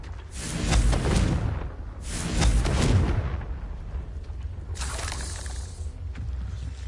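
Confringo blasting-spell explosions in Hogwarts Legacy, two loud booming blasts with crackling tails about a second and a half apart, followed by a softer burst and a lingering low rumble.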